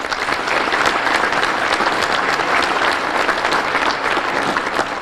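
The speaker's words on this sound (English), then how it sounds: "Give a round of applause for all those folks" Steady, dense applause from a Chamber of Commerce luncheon audience, moderately loud and even for the whole five seconds with no speech over it.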